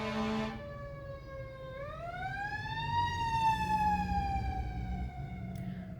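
A wailing fire truck siren rises and falls steadily over a low road rumble, growing louder as it passes nearby.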